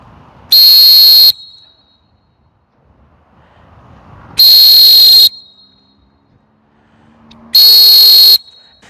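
Three loud, steady blasts of a Povit coach whistle, each close to a second long with long quiet gaps between, blown during a decibel test about 20-25 metres away.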